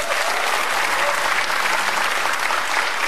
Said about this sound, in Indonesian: Boleh kasih tepuk tangan kalau begitu.